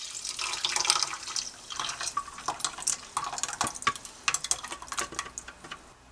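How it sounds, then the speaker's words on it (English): A blended cornmeal and veggie broth mixture pours and splashes into a large pot, a steady wet gush with irregular glugs and spatters, close and fairly loud with no talking. "Next step would be to transfer your blended cornmeal and veggie broth mixture"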